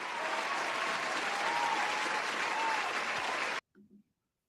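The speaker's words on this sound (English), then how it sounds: "Do y'all want a round of applause?" Loud, dense applause from a crowd fills the space steadily for about three and a half seconds, then cuts off abruptly, followed by a couple of faint short sounds.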